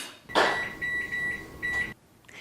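A microwave oven cooks a cake with a lid on top. A steady tonal hum runs for about a second and a half, with a short noisy clunk at the start. No one speaks.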